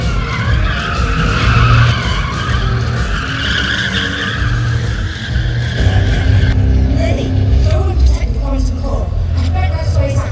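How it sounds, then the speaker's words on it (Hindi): A motorbike performs a stunt with skidding, screeching tires at a water show at Global Village in Dubai, a continuous loud roar with voices mixed into the crowd noise. "ये बाइक का स्टंट बहुत ज़बरदस्त है"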